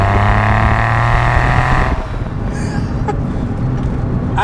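A Porsche 996 911's rear-mounted 3.4-litre flat-six revs loudly and holds a steady note, then drops away to a lower rumble as it eases off, close by with no speech.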